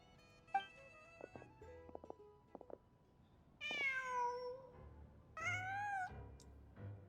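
A cat in Genshin Impact meows twice, each call a clear, drawn-out rising and falling cry, preceded by a few soft taps and clicks of in-game movement.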